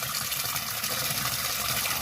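Steady rushing flow of water into a hydroponic reservoir tank, a constant close gushing wash with no pauses or voices.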